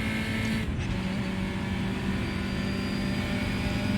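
A Formula Junior race car in the Raceroom racing game at Monza Junior, its engine droning steadily with tire scrub and sliding noise as it loses grip, continuous and loud with no speech.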